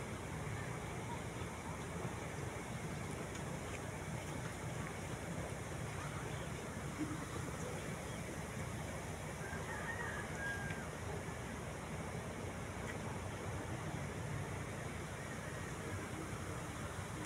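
A creek flows in a steady, broadband rush that never lets up, with some wind buffeting the microphone at the water's edge.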